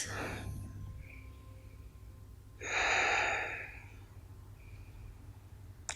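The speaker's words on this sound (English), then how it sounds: "And a few more easy breaths." Slow, deep breathing during a mellow yoga session: a soft breath at the start, then one long, audible exhale a few seconds later, close and quiet over a low background hum.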